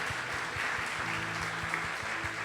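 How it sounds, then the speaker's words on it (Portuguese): A church congregation applauds during a communion service, with steady, fairly soft clapping over a low rhythmic musical backing throughout. "Vamos aplaudir Jesus em forte."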